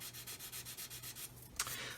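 Rhythmic back-and-forth sanding strokes on the canopy of a 1/144 scale Roden C-141B Starlifter plastic model, close and steady, about a dozen even rubs followed by a brief scrape, with no talking.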